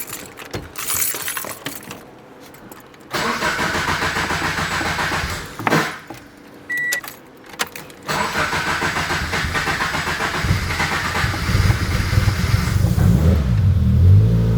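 A car engine cranking and failing to catch a few times, then catching and revving loudly with rough, sustained roar that builds toward the end, with brief gaps between attempts.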